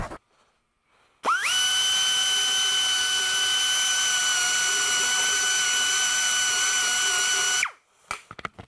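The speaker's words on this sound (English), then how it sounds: "So I'm going to use a carbide burr to do that." A fine pointed carbide burr grinds an oversized spoke clamped in a vise, starting abruptly with a loud, steady high-pitched whine that holds for about six seconds before cutting off, with no talking.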